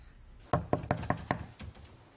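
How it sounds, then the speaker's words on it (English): Five firm knocks on a door in an even, quick rhythm, fairly close and clear, with no talking over them. "Why isn't she answering the door, Miguel?"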